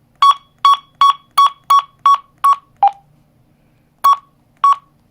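A cRony CY-919 walkie-talkie at low volume gives a series of short, loud electronic beeps in quick succession, then a lower-pitched one, a pause, and two more beeps, with nothing else audible.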